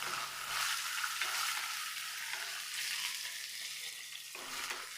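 A continuous bright sizzle of chopped onion, ginger and garlic sautéing in a pan for chicken masala, steady and close with faint shifts as the mixture is moved.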